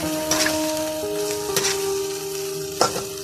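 Pork meatballs sizzle in a hot pan with a steady frying crackle close by, broken by a few scraping stirs and clinks against the pan, alongside a faint constant tonal hum.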